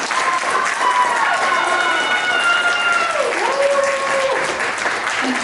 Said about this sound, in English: Applause and huzzahs.